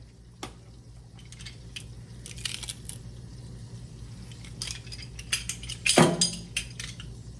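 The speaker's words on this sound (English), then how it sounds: "I'm just gonna crush the garlic into the butter" Garlic crushed into melted butter over low heat: scattered small clicks and taps of a utensil against the pan, with one sharper clatter near the end, close and with no talk.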